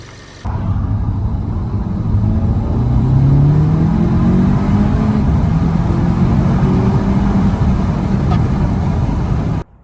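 Audi S3 engine after a high-pressure fuel pump internals install, starting up loud and close and then revving steadily, with a deep rumbling drone that rises and falls across the rips before cutting off abruptly.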